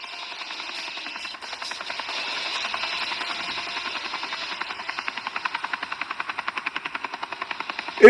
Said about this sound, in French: Hélicoptère, hélicoptère.